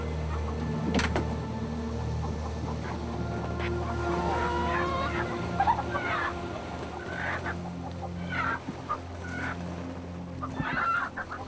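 Chickens kept aboard a ship replicating Cook's Endeavour cluck and squawk in scattered bursts over a steady low engine-like hum and creaking, fairly close but not loud.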